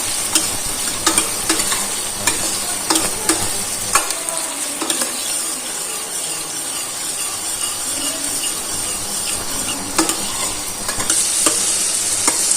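Finely chopped red chili fries in oil in a pan for a yellow moong dal, with a steady close sizzle and repeated scraping and clinking of a spoon stirring, alone without talk.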